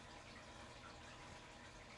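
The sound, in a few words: fish tank bubbler running water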